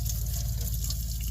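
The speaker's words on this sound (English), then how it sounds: "we got our spatula all washed up, and we're going to rinse it off" A metal camp spatula rinsed under running water at a campsite, a steady close splashing stream with no pauses, heard alone.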